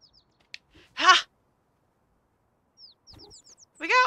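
Bird chirps in the Little Kitty Big City game, a few short high tweets scattered across a mostly silent stretch, with a small excited vocal burst and a brief squawk between them.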